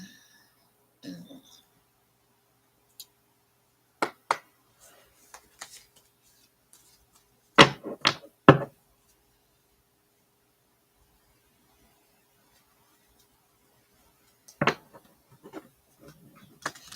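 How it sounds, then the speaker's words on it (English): A deck of cards being shuffled in short, separate bursts of riffling and sliding, close and fairly quiet, with near-silent gaps between the bursts. "I'm just shuffling while I'm waiting."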